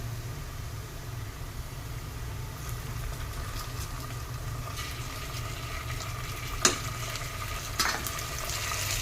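Garlic-ginger paste sizzles in a pan with onions fried until pink, a steady frying hiss throughout with a couple of brief clinks near the end.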